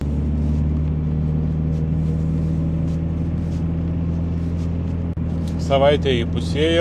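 A steady low engine drone inside a moving Dodge Challenger hums on continuously, a deep even rumble with someone talking over it near the end.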